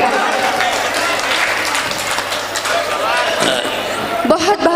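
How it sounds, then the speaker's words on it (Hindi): An audience at an Urdu poetry mushaira claps loudly for itself: a thick, steady burst of crowd applause throughout, with a voice talking over it. "मैं चाहती हूँ एक बार आप अपने लिए ज़ोरदार तालियां बजाएं।"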